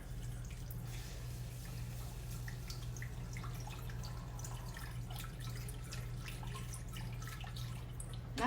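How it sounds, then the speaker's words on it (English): About a cup of broth poured into a small saucepan for chicken gravy, a soft steady trickle with faint splashes and drips, quiet and close, beneath a low kitchen hum and with no talk. "let's go ahead and add some of our broth in"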